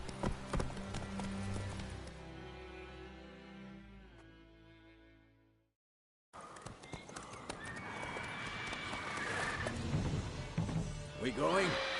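Roach the horse trotting in a PS4 video game, hooves clip-clopping steadily with a whinny, amid game sounds and voices; a brief silent gap splits the clip before the busy hoofbeats resume.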